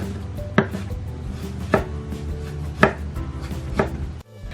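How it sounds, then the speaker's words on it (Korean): A knife chops the hard base of a green onion on a cutting board, four crisp, evenly spaced strikes close by over a steady low kitchen hum, with no talking. "밑동은 단단하니까 잘라내 버리시거나 얇게 얇게 썰어서 넣어주세요"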